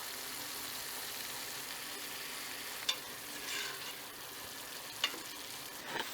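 Spices, oregano and cumin, are stirred into a vegan chili in a hot pot. A soft, continuous sizzle runs throughout, and a few sharp scrapes or clinks of the spoon against the pot are heard.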